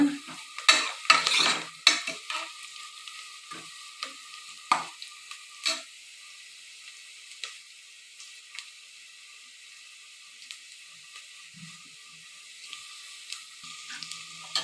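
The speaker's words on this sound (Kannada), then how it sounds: "ಚೆನ್ನಾಗಿ ಬೇಯಿಸ್ಕೋಬೇಕು ಈರುಳ್ಳಿನ" Onions fry and are stirred in a pan. Busy clattering strokes of a spoon against the metal come first, then ease into a quieter, steady sizzle with only occasional scrapes.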